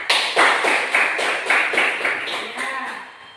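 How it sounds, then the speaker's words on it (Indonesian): A class of students claps for a student group's presentation with about nine evenly spaced, close, unison claps that fade slightly toward the end. "Jadi tepuk tangan untuk kelompok struktur sosial."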